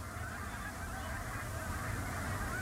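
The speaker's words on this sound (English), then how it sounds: "the Pacific black brant, a small coastal goose whose entire population stops at the refuge during migration" A large flock of Pacific black brant geese at an Alaskan wildlife refuge during migration keeps up a continuous, distant chorus of honking and murmuring, dense and unbroken.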